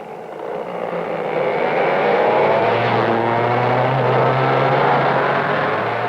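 A McCulloch go-kart from around 1961 with Ackerman steering cornering on a track, its small engine swelling into a loud sustained buzz as it comes nearer, then holding steady through the turn.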